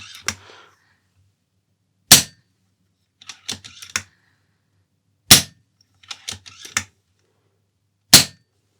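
Airmaks Krait air rifle fired with a telescoping shroud fully extended: three sharp, close shots spaced a few seconds apart, with softer mechanical clicks of cocking and loading between them, no talk.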